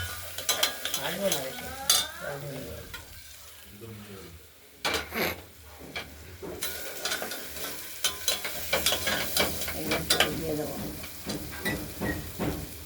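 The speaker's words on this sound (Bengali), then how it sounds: "মুসুরির ডালটা ওই কালো জিরে তেজপাতা দিয়ে ফোড়ন দিয়ে মুসুরির ডালটাকে আমরা ভাজা ভাজা করে নেব।" Masoor lentils tempered with nigella seeds and bay leaf fry in a pressure cooker pan, heard as close scraping stirs and intermittent sizzling crackle, with a voice talking over parts of it.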